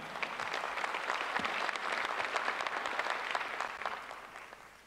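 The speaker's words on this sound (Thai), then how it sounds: "ขอเสียงปรบมือกับคุณจตุรนต์อีกครั้งหนึ่งครับ" Sustained applause from a large audience at the Bangkok International Motor Show, dense clapping that holds steady and then tapers slightly at the end.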